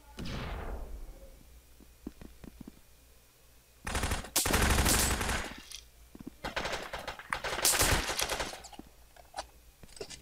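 Uzi PMP submachine gun bursts in the online shooter BRAIN OUT, loud rapid automatic fire in two or three dense bursts with shorter pops between, set against quieter game ambience.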